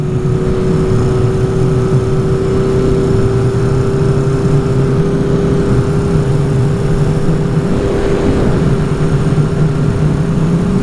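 A 1975 Honda CB550 motorcycle cruising on the interstate at about 80 mph and 6,000 RPM, with a loud, steady engine drone and constant wind roar throughout, no talk.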